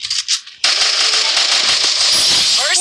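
Rapid gunfire from a 1v1 custom match in a video game, a dense continuous burst of shots starting abruptly after a brief quieter moment and running to the end.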